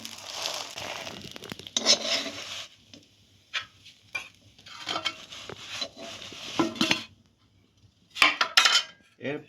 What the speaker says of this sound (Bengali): পাউরুটিটাকে সেঁকে নিতে হবে এইভাবে।